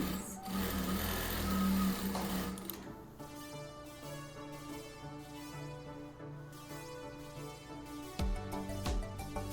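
A Sun Special SS1967X straight-stitch industrial sewing machine runs steadily, its rapid mechanical needle rhythm continuous and close throughout, with a brief pause and restart near the end.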